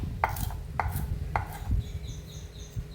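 Coriander leaves for a pressure-cooker biryani are chopped on a board with three firm knife strokes about half a second apart, followed by quieter scraping and handling, with no talking.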